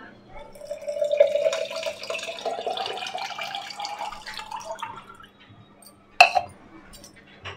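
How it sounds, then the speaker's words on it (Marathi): Cold water poured from a vessel into mango pulp for homemade mango juice, a steady splashing trickle for about five seconds, then a sharp clink of glass or spoon near the end. "थंड पाणी याच्यामध्ये ओतूया।"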